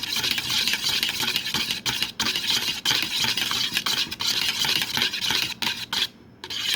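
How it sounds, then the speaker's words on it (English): A homemade sanitizer mixture is stirred hard to break up lumps, producing a dense, continuous scraping and whisking rush with brief pauses, close and fairly loud. "Mix really good to get all the little lumps out."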